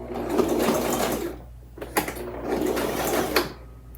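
Sewing machine stitching a dense satin stitch on a coiled rope basket, a steady whirring run that pauses briefly, then restarts in short close bursts with faint clicks between.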